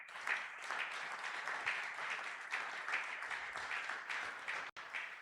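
A church congregation at a Sunday worship and thanksgiving service applauding, a steady, fairly distant wash of many hands clapping that continues evenly throughout.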